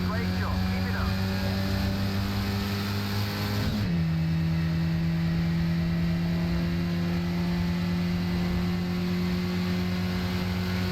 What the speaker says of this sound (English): One of my favorite things in sim racing is driving these historic GT cars.